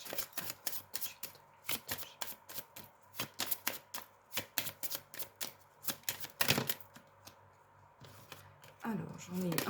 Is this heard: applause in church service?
no